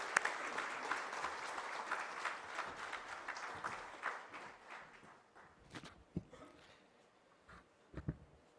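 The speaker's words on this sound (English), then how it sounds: "Please welcome him with a roaring round of applause." An audience at a ministerial aviation conference curtain raiser applauds to welcome the Minister of Civil Aviation, dense clapping that thins out into a few scattered, distinct claps toward the end.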